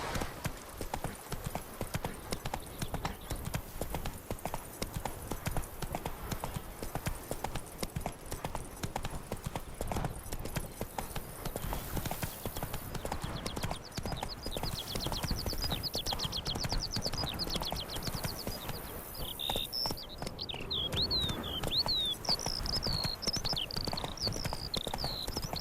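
Roach, a horse in the video game Witcher 3, gallops steadily with rapid rhythmic hoofbeats close by throughout, alongside game ambience and a few higher chirping tones later on.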